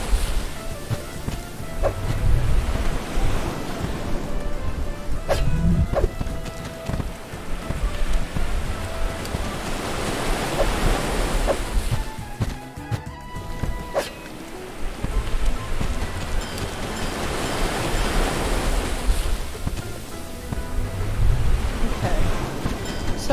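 Loud waves wash and surge in the Super Kiwi 64 video game. The surf keeps roaring for the whole stretch, with a few sharp clicks and tones from the game on top of it.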